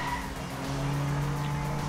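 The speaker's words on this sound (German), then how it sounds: "Jo, lässt sich gut driften." Car drifting in Need for Speed Most Wanted, with tires squealing in a sustained, rising screech over a steady engine roar, loud and close, no voices.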